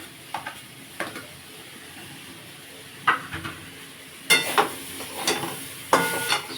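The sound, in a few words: potatoes and yardlong beans frying with onion and green chilli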